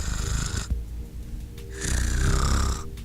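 A man imitates loud snoring with his voice during a dad-dating-sim game playthrough, two drawn-out nasal snores with a short pause between them, close to the mic.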